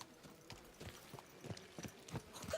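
Horse hooves clip-clop at a steady trot in Kingdom Come: Deliverance II, faint and blurred under a busy ambient wash. No one speaks.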